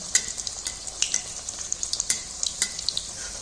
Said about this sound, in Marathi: थोडंसं असं तेल ह्याच्यावरती असं सोडायचं आणि मध्यम गॅसवरती लालसर होईपर्यंत आपण तळून घेणार आहोत